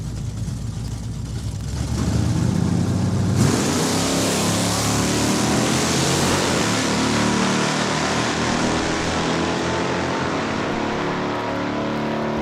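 Drag race cars in a points race at Saskatchewan International Raceway roar off the line and accelerate down the track, a loud, sustained engine howl that swells after a quieter start and holds steady.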